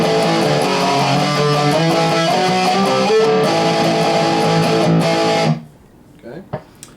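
A distorted electric guitar plays a chunky rhythmic riff, loud and continuous, then cuts off into near silence with a few faint knocks.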